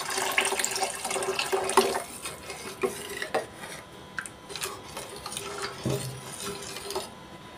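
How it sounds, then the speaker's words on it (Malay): Water splashes and trickles into a metal pot while cooking mee rebus, amid clinks of utensils and stirring, with irregular bursts of pouring throughout. "Kemudian masukkan air."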